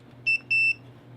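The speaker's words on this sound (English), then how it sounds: "Now, I just had this beeping at me" Electronic device under repair on a workbench gives two short, sharp high-pitched beeps, the second slightly longer, close and clear over faint background hum.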